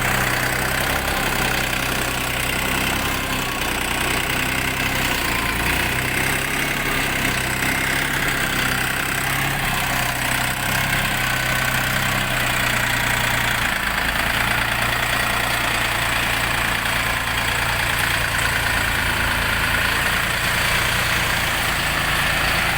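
A Dongfeng mini tractor engine idles steadily at close range, a constant low chugging hum with no speech.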